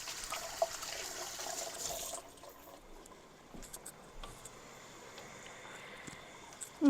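A kitchen tap runs steadily while hands are washed during home cooking of curry goat, a soft hiss that drops lower after a couple of seconds and carries faint clinks.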